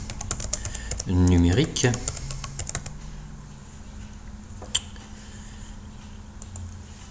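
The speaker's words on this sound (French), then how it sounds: "Dans cette fenêtre, on saisit le titre." A computer keyboard clacks in fast bursts of key taps while a title is typed into a blog editor, close and crisp, with a short spoken word early on and sparse clicks trailing off afterwards.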